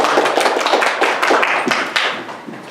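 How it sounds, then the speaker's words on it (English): A small audience at a panel event claps in dense, overlapping hand-claps for the panelists, steady and close for nearly three seconds with no speech. "So a little round of applause for every one"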